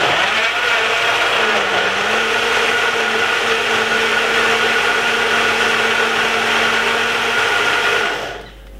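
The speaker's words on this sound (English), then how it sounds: "Make sure you switch on the blender good and go." A blender blending a spinach, ginger, lemon, honey and cucumber smoothie whirs loudly and steadily for several seconds, a constant high motor drone, then cuts off near the end.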